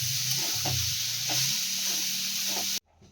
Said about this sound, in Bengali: আর এই যে এখানে আলুটা কষতে দিয়েছি।